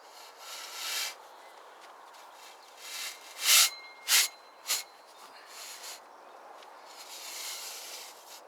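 Rough scraping and rubbing as holes are cored out in a carrot-growing box and filled with sand, with a few louder gritty strokes in the middle amid a soft hiss, close by and without talk.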